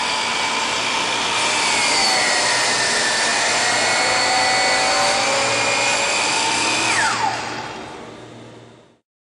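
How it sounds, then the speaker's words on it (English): DEWALT miter saw cutting crown molding at a 45-degree miter, the loud motor whine running steadily through the cut, then dropping in pitch as the blade spins down and fades out, with no talking. "Set the miter angle to the right at 45 degrees and make the cut."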